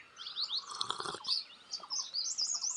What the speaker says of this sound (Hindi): सुबह चिड़ियाओं की मधुर आवाज़